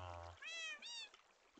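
A cat, outdoors in a game world, gives two close, rising meows in quick succession after a brief low rumble.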